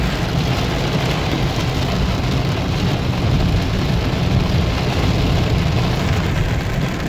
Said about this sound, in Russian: Да, давно такого дождя не было